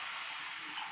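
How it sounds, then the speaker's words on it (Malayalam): Water is poured into a pot of Kerala-style fish head curry, a steady, close, hissing splash lasting about a second with no talking. "ഇനി ഞാൻ ഇതിനകത്തൊരു ശകലം വെള്ളം ഒഴിക്കുവാണ്"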